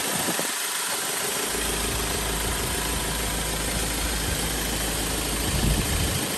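A 2012 Land Rover Defender 90 Bowler Rally Challenge Edition with a 2.2 TDCi diesel idles steadily, a loud, close, continuous rumble with a low throb and even mechanical clatter, with no voices throughout.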